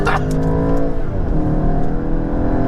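Volkswagen Golf GTI engine accelerating, a close, steady rising engine note with a brief burst at the start and a gear shift partway through, no talk over it.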